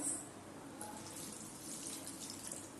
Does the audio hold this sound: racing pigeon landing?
no